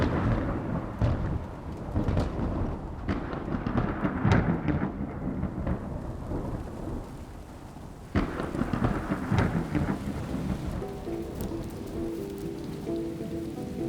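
Steady heavy rain pours down alone over Makgadikgadi, Botswana, at the end of the dry season, with a deep roll of thunder rumbling through the downpour and a louder crack of thunder partway through.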